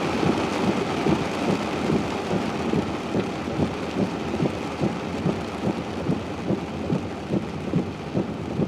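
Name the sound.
thunderstorm with rain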